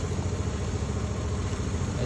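A PCX motorcycle engine idling, a low, steady, throbbing hum that runs evenly and fairly quietly throughout.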